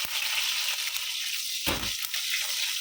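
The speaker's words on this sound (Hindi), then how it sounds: "अभी मेथी दाना और राई डालेंगे" Fenugreek seeds and mustard seeds splutter in hot oil, giving a continuous close sizzle with scattered crackles and one sharper, louder burst of popping partway through, with no voices.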